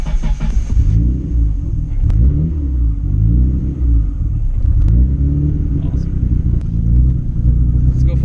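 A Nissan Skyline R32 GT-R engine rumbles deeply and close, its pitch rising and falling in repeated revs and shifts over a continuous low drone, with a voice speaking partway through.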